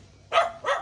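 Two quick, sharp dog barks sound close by, one after the other, with quiet background before them.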